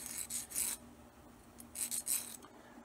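A nail scrapes out the grooves of an old finish on a 1930s desk lamp, giving short rasping strokes in irregular bursts, close and fairly quiet, with no voices.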